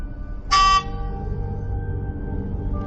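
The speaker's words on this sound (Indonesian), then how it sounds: "Ia membunyikan klakson menyapaku." One short, loud honk from a motorcycle horn, close by, then a quiet steady engine hum continues.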